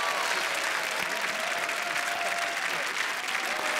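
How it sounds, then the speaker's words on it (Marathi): An audience at a comedy awards show applauding, dense sustained clapping filling the whole stretch, loud and continuous with no voices over it. "जोरदार टाळ्या दोघांसाठी."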